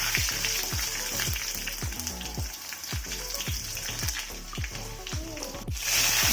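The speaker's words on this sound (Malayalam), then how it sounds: "കുറച്ച് ജീരകം ചേർത്ത് നന്നായിട്ട് വഴറ്റാം." Mustard seeds, dried chillies and cumin sizzling in hot oil, a busy crackling fry close by with steady pops and spatters throughout.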